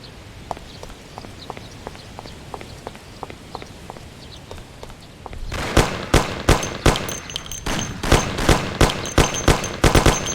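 Gunfire erupts in a Mafia video game airport shootout, starting as scattered single shots at a distance and then building into loud, rapid bursts of close shots that continue to the end.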